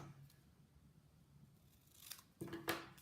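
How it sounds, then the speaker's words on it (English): Paper snips trimming card stock for a handmade gift card envelope: a few quiet, crisp snipping cuts close by, in short bursts near the end after a faint rustle. "So I'm going to just grab my paper snips"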